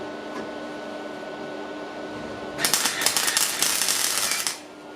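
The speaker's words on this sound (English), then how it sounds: "I'm going to go through and I'm going to add my tack welds all over" Tack welding on the rear wheel arch of a Subaru Impreza GF8 during rust repair: a low background hum, then a harsh crackling welding burst lasting about two seconds before it stops.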